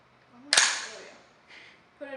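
A rifle's charging handle is racked right after the magazine is reinserted, giving one sharp, close metallic snap that rings out and fades, followed by fainter clicks near the end.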